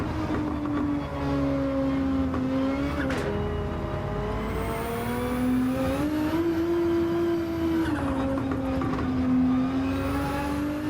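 A Gran Turismo 7 race car engine wails steadily and loudly, its pitch rising and falling through gear changes while stuck behind a Corvette on hard tyres.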